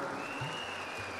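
Audience clapping at the Constitution National Unity Convention at Palace Grounds, Bengaluru: a brief, distant wash of steady applause with a faint tone running underneath.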